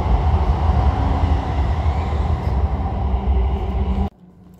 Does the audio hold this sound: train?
yes